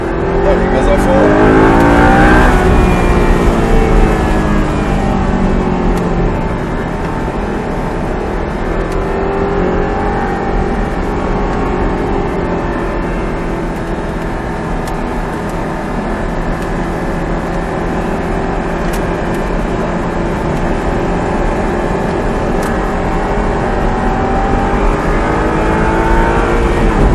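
An Audi R8 accelerates at full throttle around the Haute-Saintonge race track, a loud sustained engine roar heard from inside the car, rising through the revs with gear changes, while people talk over it.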